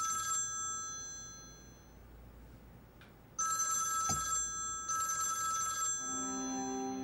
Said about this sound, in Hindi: तुम्हारे शौहर का नहीं, किसी आमना का फोन आ रहा है।